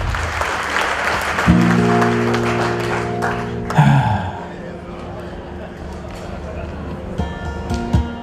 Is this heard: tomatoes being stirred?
no